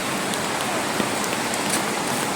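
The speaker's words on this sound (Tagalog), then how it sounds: "Medyo maulan lang ngayon" Steady rain falls and patters all around a riverside campsite, a dense continuous hiss with occasional distinct drops nearby.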